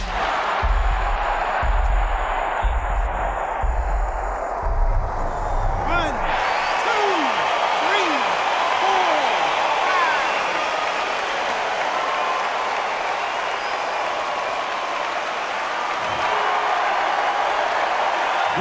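Arena crowd roaring and applauding in the boxing video game Undisputed, a loud sustained wash of cheering over a few dull thuds at first, with a commentator talking over it.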